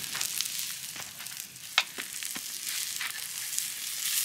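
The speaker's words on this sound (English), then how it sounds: "Give the onion a little bit of a turn. You're going to do this with a nice hot pan." Onion and garlic fry in a hot pan over a campfire, a continuous close sizzle broken by a few sharp clinks and scrapes of a spoon turning them.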